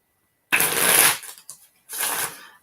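A deck of playing cards being shuffled, with two close, crisp riffling bursts separated by a short pause and a small tap between them.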